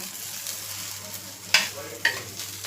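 Masala-coated pieces roast in a hot pan with a steady low sizzle, broken by two sharp scraping clacks near the end as a piece is turned.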